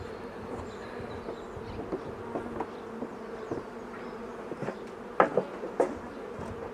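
Honey bees hum in a steady, close drone around an open hive during an inspection, with a few louder buzzes as single bees fly past near the end.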